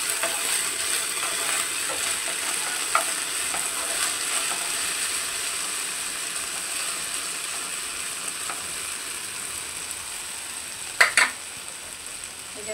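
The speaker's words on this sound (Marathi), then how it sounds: "भाजी चमच्याने हलवून घेऊ" Potato masala, a spiced aloo vegetable dish, sizzles in a pan while a spoon stirs it, steady frying with scattered scraping clicks and a louder pair of spoon knocks near the end, no voices.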